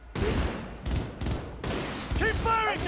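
Gunfire in the video game Cyberpunk 2077, dense bursts of rapid shots in a sustained firefight with a brief voice near the end.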